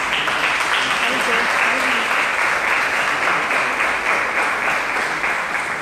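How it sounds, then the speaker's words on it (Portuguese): A church congregation applauding during a sermon, producing loud, dense, continuous clapping that holds steady throughout, with voices mixed into the sound. "Vamos aplaudir a palavra de Deus."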